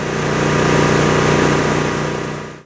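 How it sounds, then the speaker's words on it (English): A Brush Blazer mower engine runs at full throttle with its blades turning, a loud, steady mechanical drone that holds evenly before cutting off abruptly at the end. "Once the blades are fully turning, move the engine throttle to full position."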